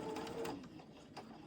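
A sewing machine runs in a brief quick burst of chain stitching through quilt pieces, a rapid mechanical whir heard close and moderately quiet.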